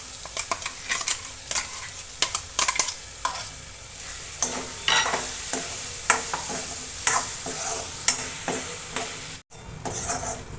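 Ground capsicum is tipped into spiced masala in a pan and stirred, with a steady sizzle under repeated scraping and clinking strokes of a spoon against the pan, close and fairly busy, with no talk.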